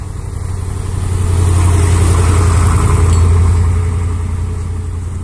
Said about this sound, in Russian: Какой-то КамАЗ едет.